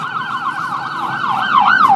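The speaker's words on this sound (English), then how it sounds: "we just had a ambulance go by" An ambulance siren wails close by on a Brooklyn street, its steady warbling rising and falling tone loud and continuous, the pitch sweeping faster near the end as it passes.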